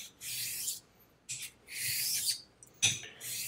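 The bevel of a Gold Dollar straight razor rubbed on an abrasive, giving close, dry scratching strokes in separate bursts, some long and some short, with quiet pauses between and no speech.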